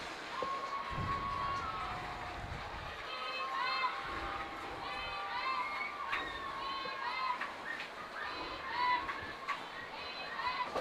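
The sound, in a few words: crowd chanting at a high school football game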